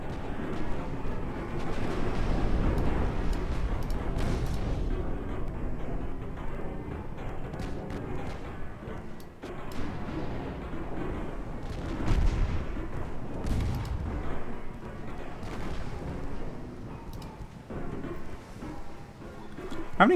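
Six-inch naval guns fire in a dreadnought warship game, a continuous low rumble of booming gunfire with repeated deep thuds close up and no gaps between them.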